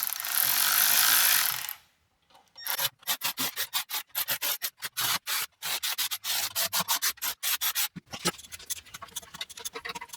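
Rapid ratchet clicks in quick bursts, close and distinct, as oil pan bolts are snugged back up on a 1979 Mercury Cougar XR7; a short scraping rub comes first, followed by a brief pause.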